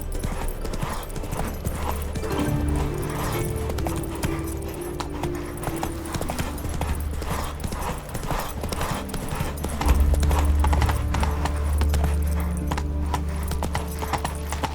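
Steady rhythmic hoofbeats of Roach the horse trotting in The Witcher 3, continuous and fairly close over a low musical and ambient bed, with no clear talking.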